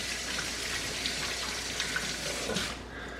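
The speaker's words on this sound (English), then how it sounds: "let me rinse that." A heirloom tomato is rinsed under a running tap, a steady close hiss of splashing water that carries on throughout and eases slightly at the end.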